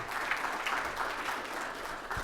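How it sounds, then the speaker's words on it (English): A conference audience at a fintech policy summit gives a steady round of applause for the sponsors, moderately loud and even throughout. "So again, a huge round of applause to our sponsors."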